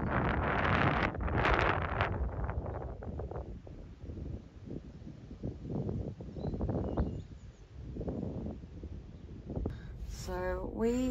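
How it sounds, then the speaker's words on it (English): Wind blows across an open farm field at sunrise, rumbling and buffeting the microphone in gusts, with a sheep's bleat near the end. "albeit rather windy here"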